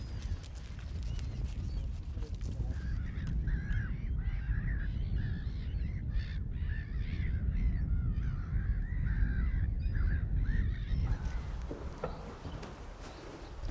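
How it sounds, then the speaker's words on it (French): Gulls squabble and call along a shore, a chorus of overlapping harsh cries rising over steady wind and surf noise, fairly distant and continuous. "Ça se bagarre entre les mouettes et les goélands."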